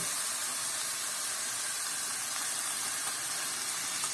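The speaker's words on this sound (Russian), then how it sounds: "Сейчас все заливаем кипятком" A steady, loud hiss and sizzle as boiling water pours into a hot pan of frying meat and vegetables, continuous throughout with no talking.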